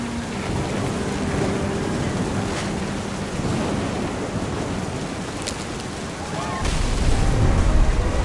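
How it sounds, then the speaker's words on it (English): Steady rain and rolling thunder in the game What Remains of Edith Finch, a dense, continuous wash with a louder low rumble swelling near the end, with no talk over it. "The thunder sounded much too close and full of angry power."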